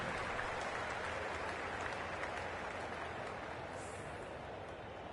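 Steady, dense crowd applause and cheering from the stadium in the Cricket 24 video game, a continuous wash of clapping at an even level that fades slightly toward the end.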